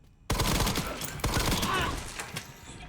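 Heavy, punchy gunfire from the survival-horror video game Resident Evil Requiem, with two loud blasts followed by a dense, ringing barrage that slowly tails off.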